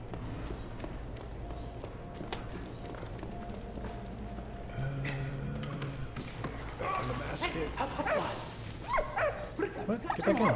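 A dog barks in the Valiant Hearts: The Great War video game, short yelps arriving in the second half over a busy, continuous game soundscape with music and effects; someone talks over it.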